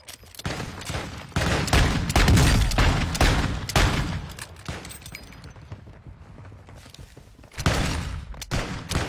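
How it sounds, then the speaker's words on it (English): Rapid bursts of gunfire ring out in a shooting video game, loud repeated shots in quick clusters with short gaps and a final volley near the end. "Joker, I missed all my shots."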